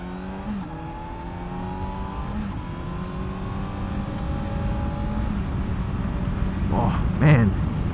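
A rented Class 2A motorcycle's engine revs up as it pulls away from a stoplight, its pitch climbing through repeated rises over steady wind rush, close and continuous.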